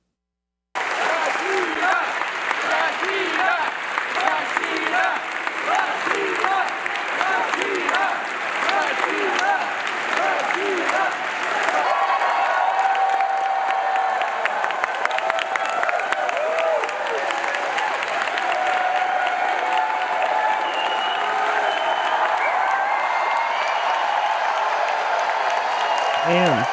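A large crowd at a political event applauds and cheers continuously, dense rhythmic clapping giving way to a swelling roar of cheers and whoops, loud and sustained throughout.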